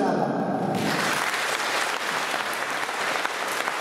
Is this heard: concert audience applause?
yes